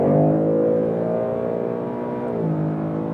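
A Ford Mustang Mach 1 with a naturally aspirated V8 revs loud and close, its engine note holding a strong, even drone that dips slightly and then climbs again near the end.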